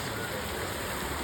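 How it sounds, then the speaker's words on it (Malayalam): Artificial rain sprayed on a TV serial shooting set gives a dense, steady hiss of falling water, loud and continuous throughout the short stretch. "ചെറിയ മഴയാക്കി മഴ കൂടി വന്നു മഴ അത്ര വേണ്ട"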